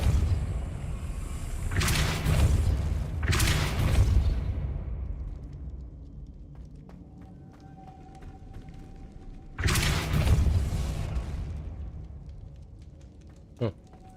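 Depulso spell cast in a Harry Potter video game: several loud broadband whooshing bursts with booming low end, two close together early and one later, over a steady background hum.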